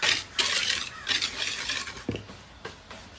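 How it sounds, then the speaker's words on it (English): Flour and sugar stirred together in a bowl make a series of soft, scraping swishes in uneven bursts, close by, with no talking. "with my flour, sugar, I'm just going to stir it a little bit."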